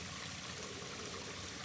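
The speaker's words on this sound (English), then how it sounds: "And the water flowing out of here." Creek water flows steadily near the Clarks Creek trailhead on the Appalachian Trail, a clear stream running over orange-stained soil. It makes a continuous, even rushing trickle close by, with no voices.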